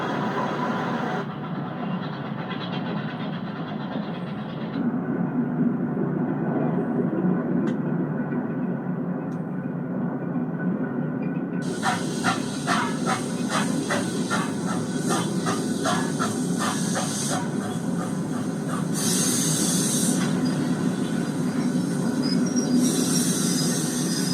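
A restored Pennsylvania Railroad D16 class 4-4-0 steam locomotive runs with its train, a steady rumbling roll of wheels on track overlaid by a rhythmic series of clanks and sharp bright hisses, moderately close and continuous.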